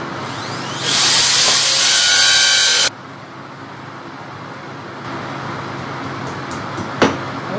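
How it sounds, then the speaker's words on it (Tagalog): A power drill bores a mounting hole in the wall for an IKEA SVARTBJÖRK convex mirror, a loud, close whirring burst of about two seconds that stops abruptly, followed by quieter handling noise. "Okay, mag-drill na tayo, guys."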